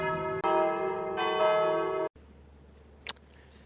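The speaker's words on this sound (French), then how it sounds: "qui est en train de faire sonner les cloches" A church bell rings loudly, with a sustained, shimmering toll from about 0.4 to 2 seconds, then cuts off; afterward only faint room noise remains, with a brief sharp knock near the end.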